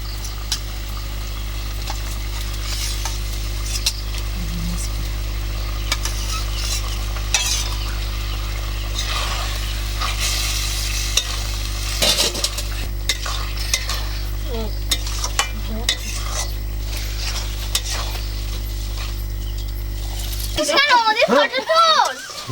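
Boiled potatoes are stirred into ghugni cooking in mutton fat, with a steady sizzle, scraping of a utensil against the pan and occasional clinks, under intermittent talk, with a burst of louder scraping near the end.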